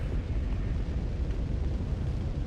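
Steady roaring rush of fire burning across Ariandel in the video game Dark Souls 3, a dense unbroken crackle-free roar at constant loudness throughout.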